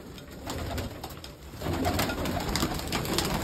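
Pigeons at a farm in Punjab being let out, cooing steadily at close range with a busier burst of sound partway through.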